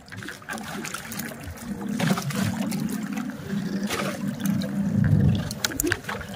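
Waves from a large passing boat slosh and splash steadily against a small fishing boat, a continuous low churning wash that swells louder toward the end.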